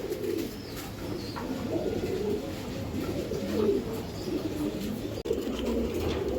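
A pair of Giribaz pigeons coo continuously at close range, low throaty rolling calls overlapping in a steady stream, with a single sharp click near the end.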